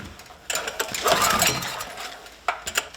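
A small Chinese engine on full choke is cranked with short, rasping bursts of effort separated by pauses. It never settles into a steady run, and no one speaks.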